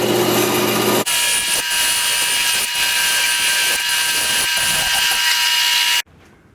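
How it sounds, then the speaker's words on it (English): Bandsaw running steadily as it cuts a wooden index wheel marked into quarters, a loud continuous whine with a few brief dips, stopping abruptly near the end. "I marked out an index wheel with 4 lines at 90 degrees and cut it out on my bandsaw"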